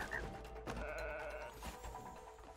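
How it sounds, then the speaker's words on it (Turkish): A goat bleats in the It Takes Two video game, a single wavering animal call over a steady low background hum from the game, with no talking. "Keçi."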